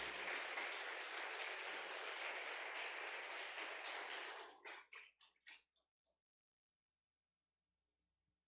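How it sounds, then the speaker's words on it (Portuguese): Church congregation applauding together during a worship service, a dense sustained round of clapping that breaks into a few scattered final claps and then fades to silence. "Podemos aplaudir por estarmos na casa de Deus?"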